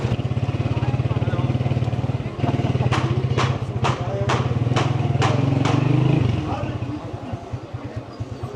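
A motorcycle engine chugs steadily through the old city streets of Damascus, Syria, with a loud, close rumble and sharp revving bursts midway before the engine note drops, while crowd babble carries in the background.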